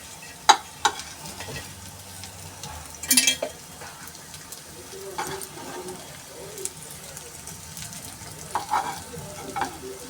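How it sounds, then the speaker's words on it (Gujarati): Sweet corn tikki frying in oil in a pan, a soft steady sizzle running throughout with a few sharper clinks and scrapes as the patties are turned. "ટિક્કીને તેલમાં ફ્રાય કરવાની છે."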